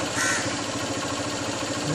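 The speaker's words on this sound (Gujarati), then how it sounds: "કાગડો બી આવ્યો" Crow cawing outdoors in Athwalines, Surat, a repeated harsh call standing out against steady background hum and low engine-like rumble, with no talking.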